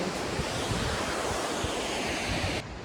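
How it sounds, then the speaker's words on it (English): A waterfall in Slovakia, seen up close beside a mountain view, gives off a dense, steady, loud rushing roar that cuts off abruptly near the end. "I'm going to show you the waterfall up close and personal."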